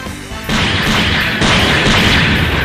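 Beam saber attacks from a Gundam unit in the mech game SDGO, two heavy swooshing impacts about a second apart, loud and close, each followed by a sustained bright crackling roar.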